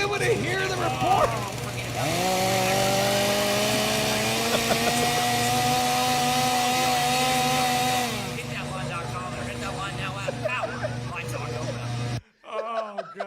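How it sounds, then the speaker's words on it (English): A chainsaw runs just outside a live sports-talk radio studio in Hoover, Alabama, building to a steady, sustained roar for about six seconds before dropping away, with voices talking around it. "we don't record it in front of the chainsaw"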